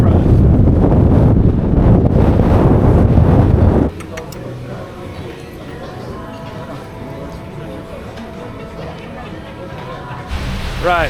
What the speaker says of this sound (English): It's so exposed on the top there, just the wind straight from the seafront.